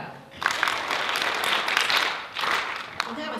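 A group of fourth-grade children at a school concert claps together in bursts, a patter of many hands following a short rhythmic pattern, pausing briefly before a final clap.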